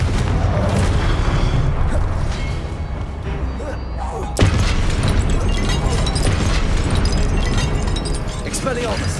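A Confringo fire spell explodes in Hogwarts Legacy, a loud booming blast amid a dense, continuous din of combat effects, with a sharp burst of impact partway through.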